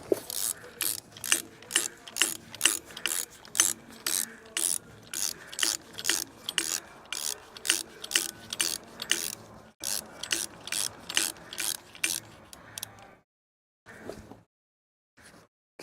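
A ratchet tightens bolts on a Toyota 2JZ engine, clicking steadily in quick, regular strokes close up, holding an even rhythm for about thirteen seconds before a few final, slower clicks.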